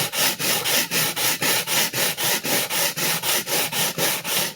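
A vintage Clyde Cutlery chef knife is stroked across a diamond sharpening plate in a steady, even rhythm of roughly fifteen rasping passes, close and moderately loud, with no talk.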